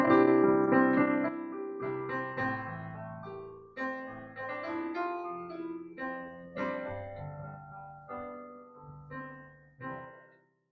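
A solo piano plays a repeating I-vi-IV-V pop chord progression, each chord struck and left to ring and fade before the next, clear and moderately soft.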